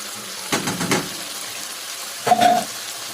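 Chopped onion, hot and mild peppers and garlic hit hot oil for an okra and meat tagine, giving two short bursts of sizzling frying close by, separated by a quieter pause.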